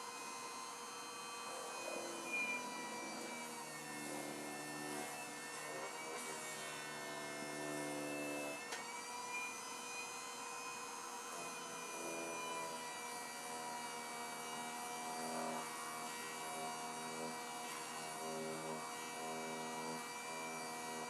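A burnishing machine runs steadily against a piece being brought to a gloss, a continuous whining hum with sustained rubbing and friction, fairly faint and unbroken throughout with slight shifts in pitch.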